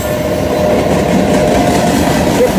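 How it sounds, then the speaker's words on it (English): A long cargo train rolls past in a loud, steady rumble with a faint rhythmic clatter of wheels, and no voices. "JMB train's moving."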